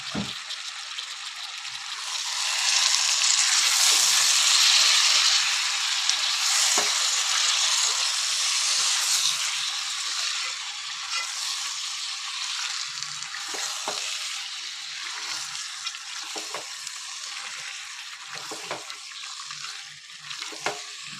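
Mutton frying in oil for a mutton gravy is stirred and mixed in the pan, producing a loud, continuous hiss of sizzling with occasional scraping clicks from the spoon, swelling and then easing slightly over time.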